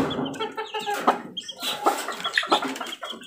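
A backyard chicken clucks repeatedly, close by, in a series of quick throaty calls with short pauses between them, and no voices are heard.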